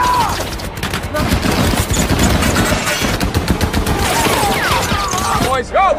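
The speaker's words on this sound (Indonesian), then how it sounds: "Sementara Norman terus menembaki tentara Nazi yang berusaha kabur." Machine gun fire from the war film Fury, rapid and loud bursts of gunfire over a constant, dense battle din, with shouted voices in places.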